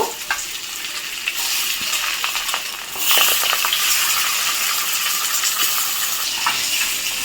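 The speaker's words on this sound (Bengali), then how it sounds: "এখন নুন হলুদ দিয়ে মেখে রাখা মাছগুলো ভেজে নেব" Fish marinated in salt and turmeric fries in hot oil in a kadai, giving a loud, steady, hissing sizzle that swells slightly partway through and carries on alone.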